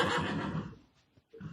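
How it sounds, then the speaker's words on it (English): A single horse neigh used as a sound effect on a wrestling livestream: a loud, rising whinny that fades out over about a second, followed by a short snort-like tail. "I got to get a better horse sound."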